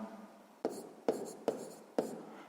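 Pen on paper writing numbers in a sixth-grade math exercise: four quick separate scratchy strokes, close and crisp, with short pauses between them and nothing else around.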